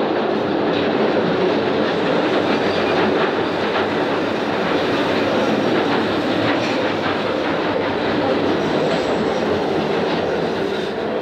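Interior of a 1995 tube stock London Underground Northern line train running between Kentish Town and Charing Cross, a loud, steady roar of wheels and motors with faint clickety-clack throughout, no voices.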